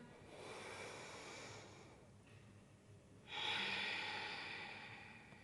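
Deep breathing during a yoga exercise: a long slow airy exhale, a short pause, then a stronger breath through the nose, soft and close with no talk.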